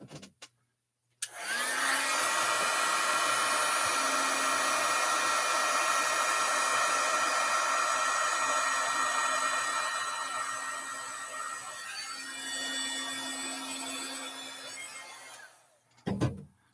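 Embossing heat tool blowing hot air to melt embossing powder on a beach-themed card, a loud, steady whirring roar that runs for about fifteen seconds before switching off.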